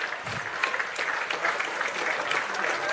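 Steady crowd applause at a para football match between Australia and Japan, a dense wash of clapping from a large audience that holds evenly throughout, with no distinct voices.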